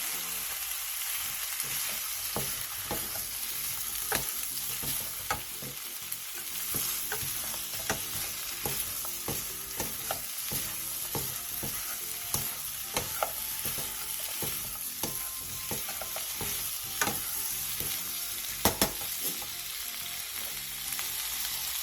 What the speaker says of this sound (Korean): 볶아놓았던 양파, 느타리버섯 한 줌을 넣고 골고루 섞을 때까지만 볶아주세요